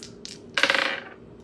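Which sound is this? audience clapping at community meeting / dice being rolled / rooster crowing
dice being rolled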